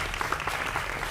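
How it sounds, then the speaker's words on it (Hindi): Studio audience applause greets a guest on a Hindi political TV debate show about the Bihar election, a steady close wash of clapping lasting about a second with no talk over it. "जोरदार तालियों के साथ स्वागत करिए प्रदीप भंडारी का"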